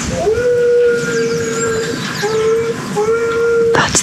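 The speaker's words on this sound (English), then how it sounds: "What are you crying at? Why are you howling?" A dog on a rural homestead in Portugal cries and howls in several long, wavering, whistle-like tones, loud and close, with a brief sharp noise at the end.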